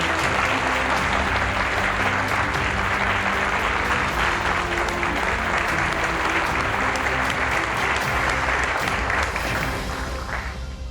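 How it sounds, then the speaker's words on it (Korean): Loud, sustained applause from a large crowd at a university president's inauguration ceremony, steady throughout and tapering slightly near the end. "큰 박수를 부탁드립니다."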